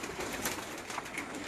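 Pigeons in a rooftop loft coo in low, repeated murmurs, mixed into a busy, noisy outdoor background with no one speaking.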